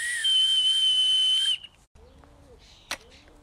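A hazel May whistle blown with a steady, high-pitched tone for about a second and a half, fairly loud and close, then a brief quiet with a few faint knocks afterward.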